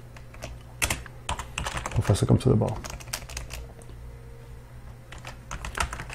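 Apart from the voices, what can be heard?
typing on a French computer keyboard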